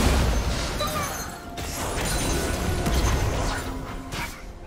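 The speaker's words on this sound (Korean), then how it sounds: "파랑 팀의 포탑이 파괴되었습니다." A League of Legends turret is destroyed, a rumbling mechanical crash with bursts of crumbling debris and booms from a busy match, no talking heard.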